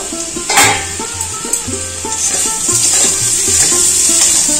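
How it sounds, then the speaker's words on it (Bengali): Potatoes fry in a pan with a loud, continuous sizzle, punctuated by occasional clinks and scrapes of stirring, with no talking. "আলুগুলো দেখুন লাল লাল করে ভাজা হয়ে গেছে"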